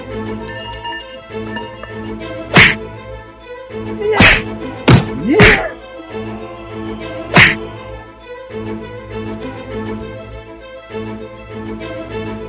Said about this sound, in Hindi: मत मारो